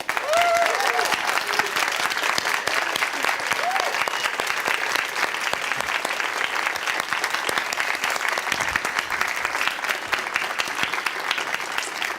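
An evening film event audience applauds as Alan Rickman is welcomed, producing a loud, dense, steady roar of clapping that runs unbroken throughout, with a few faint voices and cheers mixed in.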